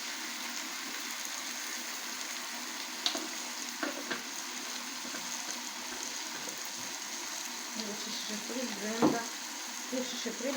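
Blended tomatoes fry in oil in a pan for a chicken dish with yoghurt and ketchup, giving a steady close sizzle with occasional spoon clinks and bubbling pops.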